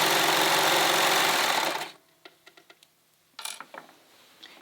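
Sewing machine stitching elastic onto a tunic seam, a loud steady mechanical whir running for about two seconds before cutting off, followed by a few faint clicks and soft handling noises.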